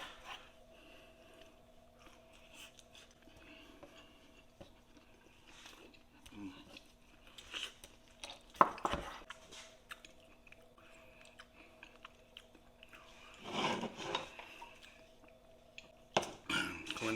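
Someone chews and tastes beer can chicken cooked in a barrel smoker and on a Weber grill, with quiet, close bursts of wet chewing and biting between long near-silent gaps; people speak briefly.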